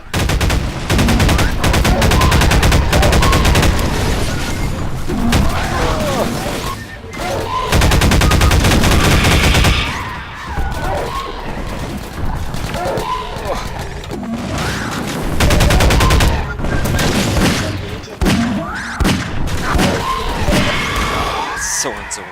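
Rapid gunfire from the shooter game Half-Life 2: Episode Two rattles in loud, dense bursts of shots with short pauses, some stretches sounding like automatic fire.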